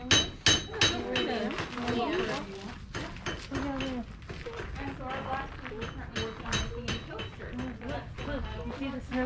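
At the blacksmith shop at Mount Vernon, a hammer strikes metal in a run of sharp, ringing clinks, fairly close and irregularly spaced, while people talk throughout.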